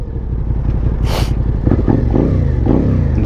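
A Suzuki SV650 motorcycle engine hums steadily while riding on an early morning road, a close continuous throb with a brief burst of wind or noise and slight rises in revs.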